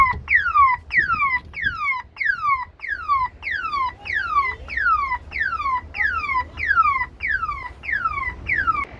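A VW City Golf's car alarm whoops in a steady repeating pattern of falling electronic sweeps, about two per second, loud and continuous over a low background rumble.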